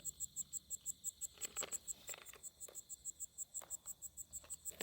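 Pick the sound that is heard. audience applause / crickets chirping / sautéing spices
crickets chirping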